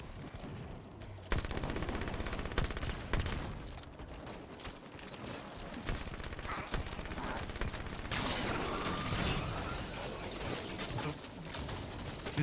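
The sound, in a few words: gunfire in the video game Halo 5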